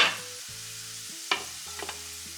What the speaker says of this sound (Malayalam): അപ്പോൾ കല്ലുമ്മക്കായ ഫ്രൈ ആയി വന്നിട്ടുണ്ട്